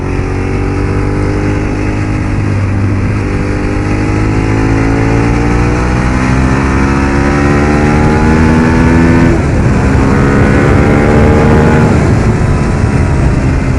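A Ducati 848 motorcycle on the move, its engine droning steadily and loudly with rising and falling harmonics as it works through the gears, mixed with constant heavy wind rush throughout.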